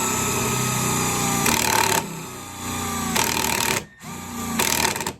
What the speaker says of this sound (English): That was pretty much no reactive torque from the impact driver